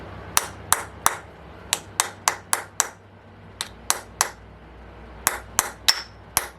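Sharp, repeated hammer knocks on a dowel driving the front bearing out of an OS FS 70 Surpass model engine, about fifteen close, loud taps in irregular bursts with short gaps between them.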